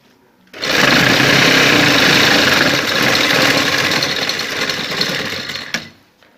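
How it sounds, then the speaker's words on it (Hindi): A sewing machine running loud and close as it stitches a strip onto a garment sleeve, one continuous steady whirring run of about five seconds that starts and stops abruptly. "हमने सिलाई लगानी है।"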